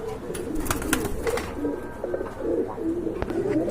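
Racing pigeons being shown for sale coo steadily in low, repeated throaty calls, close by and moderately loud, with faint shuffling in the background and no speech.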